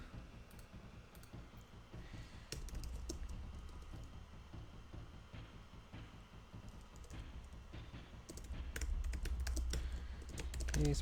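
Rapid typing on a computer keyboard while building an iOS app, keystrokes clicking in quick irregular bursts that grow denser and louder toward the end, close to the mic, with a steady low hum underneath.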